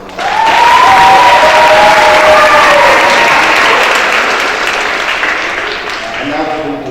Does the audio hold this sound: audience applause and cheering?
yes